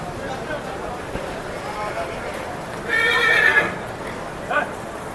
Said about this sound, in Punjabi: ਬਹੁਤ ਹੀ ਸੋਹਣਾ ਘੋੜਾ